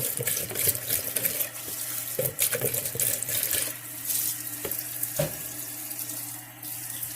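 Water runs steadily from a tap into a container to mix powdered laundry detergent, a continuous close splashing stream with small stirring knocks, no talking.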